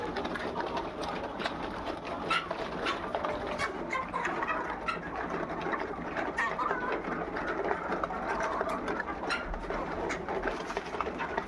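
Layer chicken pullets feed at night on a poultry farm, with quick, scattered pecking clicks and soft bird murmurs forming a busy, low-level texture that stays constant for over ten seconds.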